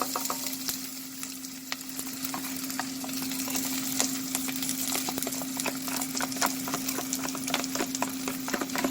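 Onions and garlic fry together in a pan with a steady, close sizzle and crackle, a constant hum running underneath and scattered sharp pops and scraping stirs throughout.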